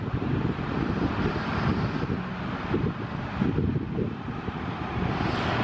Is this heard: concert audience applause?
no